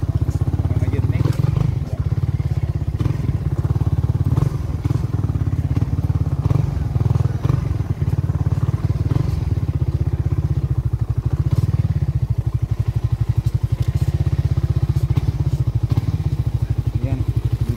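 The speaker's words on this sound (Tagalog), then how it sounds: "Pasok natin po yung ating motor." A motorcycle rides steadily toward a house, its engine a constant loud low drone throughout, with occasional thumps and clatter from the road and a voice talking over the engine noise.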